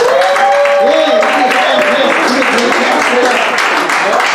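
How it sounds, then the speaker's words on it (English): Comedy show crowd applauding a comedian, loud close clapping mixed with cheering and shouting voices, sustained throughout. "How about a big round of applause for that cat right there?"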